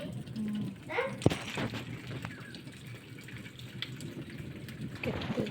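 Heavy rain falls in a steady, wide hiss that carries on throughout, with a few nearby knocks and voices talking over it.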